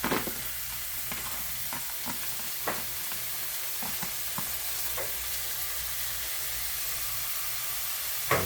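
Diced celery with red and green peppers sizzling steadily in a pan, a continuous close frying hiss broken by a few short stirring scrapes and clicks, with no talk.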